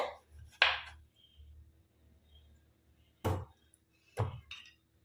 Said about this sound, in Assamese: এইদৰে কাটিব লাগে, ছাইডখিনি অকণমান কাটি ল'ব লাগে।